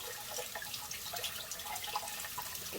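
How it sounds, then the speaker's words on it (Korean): Cold tap water runs steadily over a pineapple being washed, a close, soft, continuous splash and trickle with small drips and no talking. "파인애플을 씻을 때요. 찬물에"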